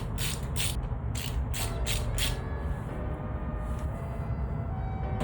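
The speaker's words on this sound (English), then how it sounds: "Take your screws and tighten those back in." A ratchet tightens the screws on the oil filter cover of a 2023 Kawasaki KLX230SM motorcycle, giving quick bursts of close, crisp clicking over a steady background hum.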